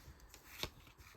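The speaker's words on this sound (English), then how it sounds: "Cards flipped around." Trading cards from a Topps Update box being flipped and shuffled, a single quick riffling burst near the middle of a quiet, close-up stretch with faint background hiss.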